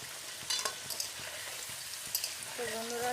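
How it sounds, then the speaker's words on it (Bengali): Potato pieces frying in oil in a pan while being stirred and turned: a soft sizzle broken by irregular clinks and scrapes of a utensil, close, with a faint tonal hum near the end. "তো আলুটাকে নেড়ে সেটা আমি একটু ভেজে নেবো বন্ধুরা, লাল লাল করে"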